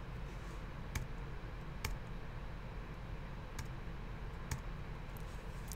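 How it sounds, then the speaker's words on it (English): Keys pressed on a computer keyboard, five or six sharp, quiet clicks spaced about a second apart over a low steady background hum. "if I hit the backslash key on my keyboard"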